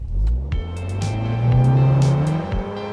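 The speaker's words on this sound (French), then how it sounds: "Et vous bénéficierez même de quelques borborygmes générés par l'échappement actif à chaque changement de rapport" A 2.0 TFSI Audi TT roadster with 230 horsepower, all-wheel drive and an active exhaust accelerates hard. Its engine note rises steadily and loudly, with brief sharp bursts on top and no talking.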